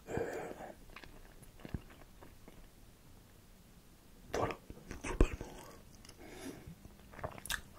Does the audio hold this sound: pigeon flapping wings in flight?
no